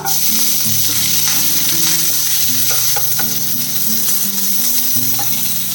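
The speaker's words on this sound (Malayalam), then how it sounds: "ഇതിൽ കട്ട് ചെയ്ത് വെച്ചിരിക്കുന്ന സവാളയും പിന്നെ പച്ചമുളകും കൂടി ഇട്ട് കൊടുക്കാം." Chopped onions and green chillies frying in a hot pan for egg rice, a loud steady sizzle with stirring and clinks of a utensil throughout.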